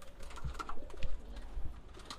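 Pigeons cooing softly inside a beginner's flyers loft, low murmuring coos repeating irregularly over a quiet room background with no talking.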